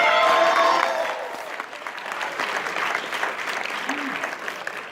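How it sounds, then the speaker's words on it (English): An audience gives itself a round of applause: a full, continuous wash of clapping with some crowd noise, loudest at the start, where a voice briefly sounds over it, then holding steady before fading out. "Give yourselves a round of applause"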